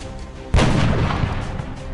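A single heavy sniper rifle shot in XCOM: Enemy Within, a sudden loud boom that decays into a rumbling tail, alone with no talk.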